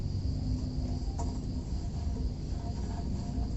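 Dense, steady chirping from a mass of crickets raised on a small home garden cricket farm, close and continuous with no pauses.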